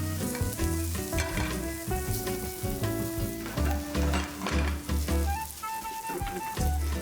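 Chicken with okra frying and being stirred in a pan, a loud steady sizzle broken by scraping, clattering stirring strokes, with tonal music playing underneath.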